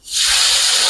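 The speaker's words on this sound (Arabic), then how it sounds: "هياخد تشويحه على النار" A loud, steady sizzling hiss from tomatoes and garlic hitting a hot pan on the stove, bursting in suddenly and holding strong throughout.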